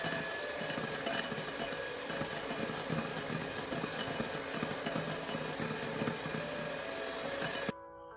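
Electric hand mixer whirring steadily as it beats eggs with powdered sugar for a tutti frutti cake, a faint continuous buzz with slight rattling that stops abruptly at the end.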